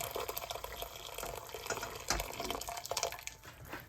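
Tap water runs into a stock pot in a home kitchen, a steady splashing gush with small fluctuations and a brief louder surge partway through, close and alone.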